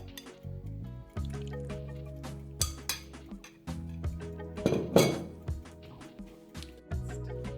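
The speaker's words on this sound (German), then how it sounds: "gebe noch ein bisschen von dem Mandarinensaft schon darüber" Mandarin juice poured over grapes in a bowl: soft dribbling and dripping liquid mixed with bright clinks of glass and dishes, close by and with no voices.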